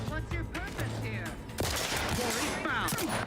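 Bursts of rapid gunfire ring out in the video game Outer Worlds 2, dense and close, mixed with game effects and a voice speaking over them.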